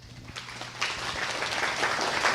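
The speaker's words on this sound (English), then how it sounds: "Give him a round of applause, please." Applause from attendees at a community business meeting, fairly faint and building over a couple of seconds from sparse claps into a steadier round, with a low hum underneath.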